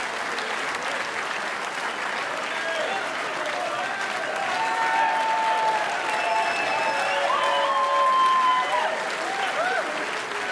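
Sustained crowd applause and cheering fill a snooker arena after a world final win, loud and continuous, with a commentator speaking over the clapping.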